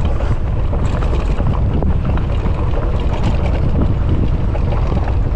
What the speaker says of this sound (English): It's a little bit windy over here, very windy.